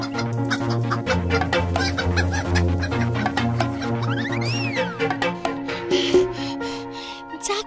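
A cartoon chicken clucks in quick repeated bursts over a busy musical score with a rising whistle-like sweep partway through.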